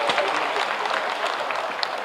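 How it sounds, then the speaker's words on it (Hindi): An audience at a government ceremony in Bihar applauds, with dense, continuous clapping from many hands that fills the whole moment at a loud, steady level. "जोरदार ताली"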